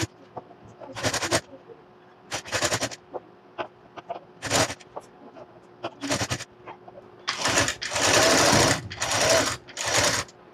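Sewing machine stitching piping onto a blouse, loud rattling runs in short bursts that grow longer and nearly continuous toward the end, with no talking.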